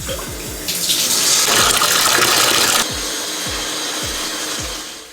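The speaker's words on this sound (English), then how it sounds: "And now I'm gonna rinse my feet off." Tap water runs in a bathroom while feet are rinsed, a steady splashing flow that swells louder midway, with soft rubbing and knocking under it and no talking.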